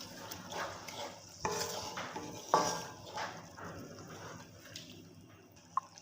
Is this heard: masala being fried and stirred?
yes